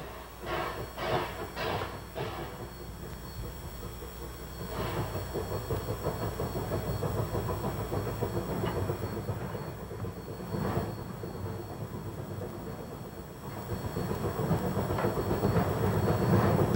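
An O gauge model train rolls across a layout past a grade crossing and coal tipple, with a few sharp clicks at the start, then a steady mechanical rumble that grows louder toward the end.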